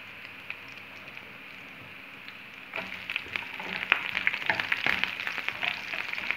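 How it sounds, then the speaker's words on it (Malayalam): Onions fry in a pan for paneer curry and are stirred, first as a faint, quiet sizzle and then as a louder crackle with scraping stirs up close. "സവാള ഇട്ടിട്ട് ഇളക്കുകയാണ്."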